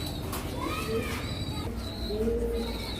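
Silky lacquer pigeons coo softly beneath children's voices and playful chatter nearby, the low calls blending into a busy outdoor background.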